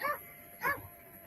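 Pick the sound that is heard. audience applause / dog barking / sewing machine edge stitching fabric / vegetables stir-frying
dog barking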